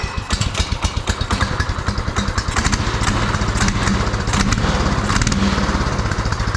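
A small go-kart engine with a newly swapped carburetor runs close and loud, a rapid pulsing putter that lopes unevenly at first, then settles into a steadier, slightly faster idle with some mechanical clatter.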